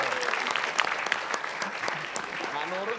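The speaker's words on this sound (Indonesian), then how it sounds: "Kita beri tepuk tangan buat saya." A studio audience claps at a TV show, giving a short burst of crisp, dense applause with clear individual claps close by, while a voice talks over part of it.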